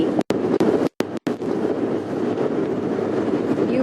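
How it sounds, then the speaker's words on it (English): Wind gusting outdoors during a safari sunrise drive: a loud, steady rumble of wind buffeting the microphone, broken by a few brief dropouts near the start, with no voices. "You can hear how the wind is gusting."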